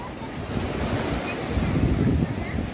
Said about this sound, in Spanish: el sonido del mar está fuertísimo